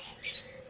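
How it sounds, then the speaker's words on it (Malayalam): A single short, bright chirp from tame pet parrots and exotic birds for sale, fairly close and alone over a quiet background. "ഇണങ്ങിയ ഒത്തിരി കിളികളുണ്ട്."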